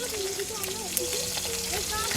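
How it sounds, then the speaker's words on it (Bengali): Fish being slid into hot oil in a home kitchen fries with a steady close sizzle and crackle, with a child's babbling and a voice faintly over it. "এবার মাছটাকে তেলের মধ্যে ছেড়ে দিচ্ছে"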